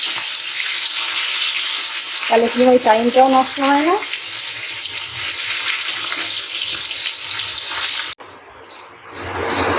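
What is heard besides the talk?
washing dishes under running tap water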